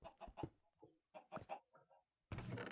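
Baby chickens in Minecraft Bedrock Edition cluck in a string of short, close clucks and squawks in uneven bursts, ending with a louder broadband rustle.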